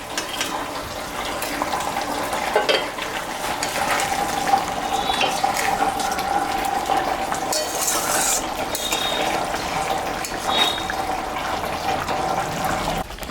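Mrigal fish curry cooks in a pot of boiling water. A steady watery simmer runs under occasional metallic clinks and stirring scrapes, fairly close and moderate in level.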